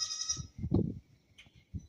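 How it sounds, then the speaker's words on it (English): A baby goat near a feed pile bleats once, short and fairly close, followed by a couple of faint rustles and a brief softer sound. "Little baby goat's going over to the feed pile"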